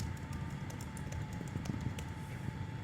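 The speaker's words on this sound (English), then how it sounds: "Typing in the search." Quiet keyboard typing, a run of soft irregular key taps over a low background hum.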